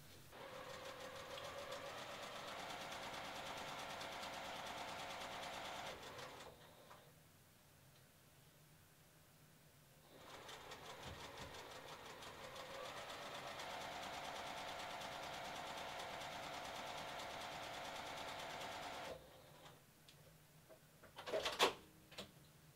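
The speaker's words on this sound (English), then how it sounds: "Now we're going to go do the exact same thing over at the sewing machine." A sewing machine whirs in two long, even stitching runs through quilt fabric separated by a quiet pause, ending with a few soft clicks and handling knocks.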